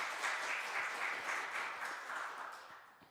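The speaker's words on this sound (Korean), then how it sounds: "우리 환영과 감사의 큰 박수 보내주시기 바랍니다" A church congregation applauds to welcome a new accompanist at a Sunday service, a soft, even patter of many hands lasting about three seconds and fading gradually.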